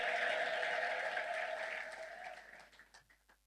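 Loud applause mixed with high, wavering ululation fills a church as the congregation responds to an evangelist, then the clapping thins into scattered claps and fades away.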